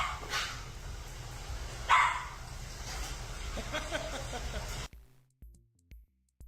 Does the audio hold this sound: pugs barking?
yes